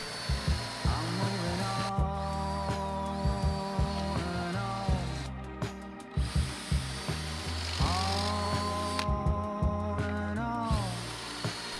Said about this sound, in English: I used a Craig jig to make pocket holes to join the 2x8s.